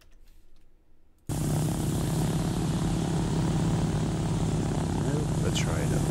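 Heavily loaded airplane in a flight simulator roaring at full power on a runway in Samoa while trying to take off, a steady loud engine drone starting abruptly after a quiet moment, with a brief faint chirp near the end.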